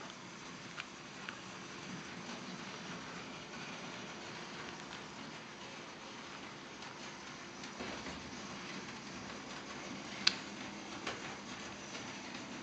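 An HO scale model train runs along layout track, a steady low rumble of wheels with occasional faint clicks and small ticks, moderately quiet and continuous with no talk.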